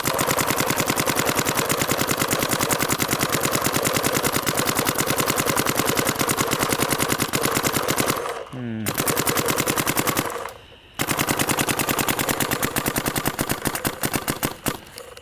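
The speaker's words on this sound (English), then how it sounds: "Now shoot the Geo R5." A Planet Eclipse Geo R5 paintball marker fires in long, rapid full-auto strings, a loud, steady stream of pops that breaks off twice briefly before carrying on to the end.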